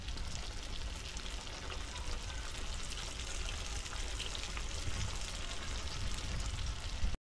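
Vegetable manchurian balls dropped one by one into hot oil, frying with a steady, dense sizzle and crackle that stays even throughout, close up and without speech.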